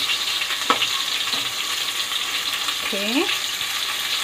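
Chicken pieces fry in a pan after being turned to the second side, with a continuous close sizzle and a few light scraping clicks, while a voice says a brief word.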